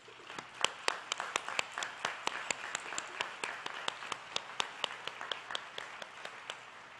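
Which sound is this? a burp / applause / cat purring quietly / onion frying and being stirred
applause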